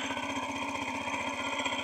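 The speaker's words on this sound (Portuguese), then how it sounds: "Olha galera, aqui é o motor de CJ" A new boat motor runs steadily on the water, giving a continuous mid-pitched engine drone with a fast regular pulsing beat, close and loud, with no voices.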